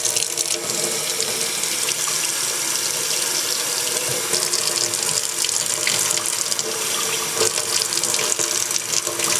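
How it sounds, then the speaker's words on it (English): Tap water running into a bowl, a steady loud rushing stream with fine splashing that holds evenly from start to finish, no voices. "Alright, let's fill this bowl."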